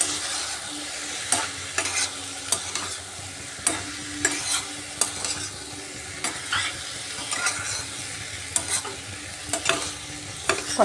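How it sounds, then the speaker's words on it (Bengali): Chunks of ash gourd sautéed with spices in a pan, a low steady sizzle punctuated by regular sharp scrapes and taps of a spatula stirring every second or so, close and quiet, with no speech. "মশলার সাথে চাল কুমড়োটা ভালো করে কষিয়ে নিলাম"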